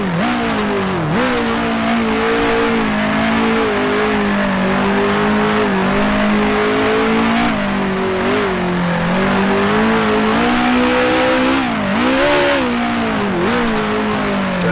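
A 1966 Formula One racing car engine at Monaco in the game Grand Prix Legends drones loud and continuous. Its pitch swoops up and down as it revs through gear changes, with no talk.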